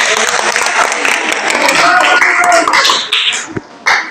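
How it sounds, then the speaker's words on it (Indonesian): Classroom applause from students, a dense burst of clapping that fills most of the clip before thinning out and trailing off into a few scattered claps near the end. "Oh ya, bagus, tepuk tangan."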